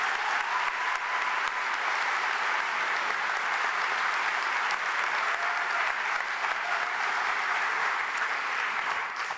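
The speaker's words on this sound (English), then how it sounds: "Let's have a big round of applause for Vice Mayor-elect Anita Price." An audience at the Jefferson Center in Roanoke, Virginia gives a steady round of applause, with dense, continuous clapping and no talking over it.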